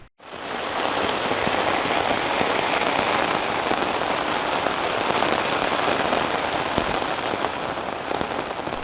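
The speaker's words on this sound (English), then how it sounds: "the next day, it just ended up raining and raining and raining." Heavy rain patters densely and steadily on a tent during a storm, a close, unbroken wash of drops with occasional heavier hits and no voices.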